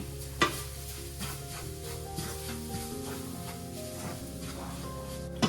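A sesame and roasted gram powder filling is mixed in a pan with a steady gritty scraping, a light sizzle running throughout and a couple of sharper knocks near the start and end.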